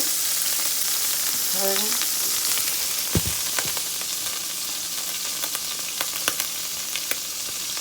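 Pot of neck bones brought down to a simmer, giving a steady close bubbling sizzle with a few stirring clinks and knocks, and one short spoken word.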